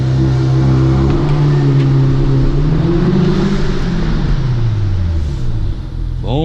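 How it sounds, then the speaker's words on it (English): A 2017 Audi S3 fitted with a cold air intake launches hard under launch control, its engine note loud and close as it climbs steadily through the revs, with a brief shift dip near the end. "That's a launch there. So also the car sounds really good. I do have a cold air intake on it."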